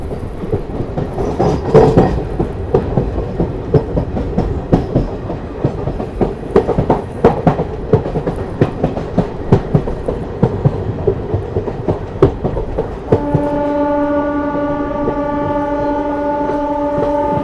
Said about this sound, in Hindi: यहाँ पर ट्रेन जो है अपनी कंसराव स्किप करने जा रही है।